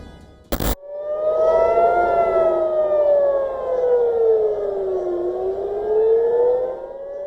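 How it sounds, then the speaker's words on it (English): A loud civil defense air-raid siren wails over Tel Aviv during an Iranian missile attack, its pitch slowly rising and falling in long sweeps after a brief sharp click at the start. "Sirens wail over Tel Aviv and Tehran as the 8th day of the Iran-Israel war dawns with fire and fury."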